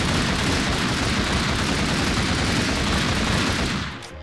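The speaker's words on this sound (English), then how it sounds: "He's all out firing at me." Dense, loud gunfire pours in as a continuous barrage aimed at the player in Minecraft, rapid shots blurring into one roar that drops away abruptly at the very end, with no talking.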